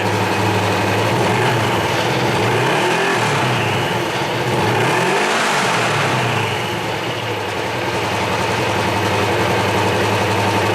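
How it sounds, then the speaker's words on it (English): A motorcycle engine with a newly installed clutch primary runs loud and close, swelling through a couple of throttle blips over a steady rumbling idle. "Let me rev it a couple times."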